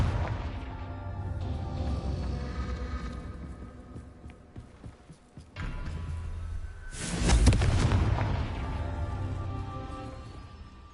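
Confringo spell blasts in the Hogwarts Legacy video game, a run of deep rumbling booms over continuous game ambience, with one loud, broad explosion cracking out near the end.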